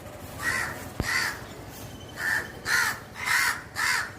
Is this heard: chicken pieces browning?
no